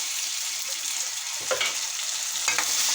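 Steady sizzling from a hot pan of onions with garlic ginger paste, with a couple of brief stirring scrapes and bursts partway through; no talking.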